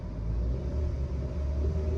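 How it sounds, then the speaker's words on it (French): A car engine idles close by with a steady low rumble and a smooth continuous hum, with no talking over it. "Le son du moteur, écoutez-moi cette pépite"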